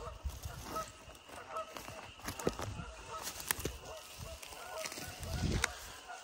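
Geese honk repeatedly in the woods near icy water, the calls fairly faint and scattered among footsteps, rustling and people talking nearby.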